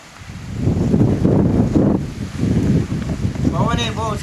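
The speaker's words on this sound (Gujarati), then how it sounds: "પવન એ બહુ છે ભાઈ" Strong wind gusts across an outdoor wood-fire cooking spot, a steady, loud, rushing roar that swells and dips throughout, with people talking over it near the end.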